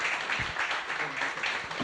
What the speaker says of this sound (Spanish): Us demano un aplaudiment per ells dos.